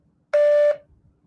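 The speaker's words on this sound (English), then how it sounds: "Please state your name after the tone" A single steady electronic tone from Google Voice before recording a name, one clean beep lasting under half a second, loud and alone in a quiet line.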